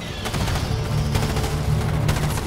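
Rapid automatic gunfire from troops in the game Starship Troopers Terran Command, a dense continuous barrage of overlapping bursts that stays loud for the whole stretch with no talk.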